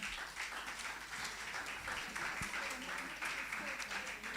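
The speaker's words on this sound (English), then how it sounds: "Another round of applause." An audience at the Falling Walls Lab in Accra, Ghana, applauds the jury with a steady, dense patter of clapping that carries at an even level throughout.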